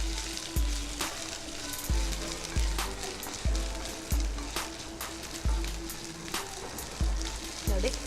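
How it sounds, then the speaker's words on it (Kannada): Onions and cumin seeds sizzle and fry in hot oil for jeera rice, a constant crackling hiss punctuated by regular sharp stirring knocks roughly every second. "ಸ್ವಲ್ಪ ಚೆನ್ನಾಗಿ ಫ್ರೈ ಆಗಲಿದ್ದು"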